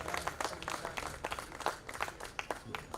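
A crowd at a flag-raising at a city hall in Paterson applauds, short bursts of scattered clapping with a few whoops, sparse and somewhat thin rather than a roaring ovation.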